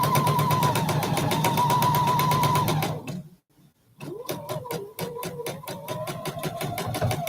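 A sewing machine slowly stitches a quilt sampler block in a steady, close run of rapid needle strokes, pausing briefly partway through before resuming at the same even pace.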